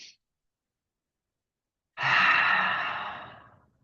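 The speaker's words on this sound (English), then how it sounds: "Let's take one more big, long breath here." During a mat exercise session, a single long exhaled breath comes out as a soft, airy sigh, close and alone, fading gradually after a brief silence.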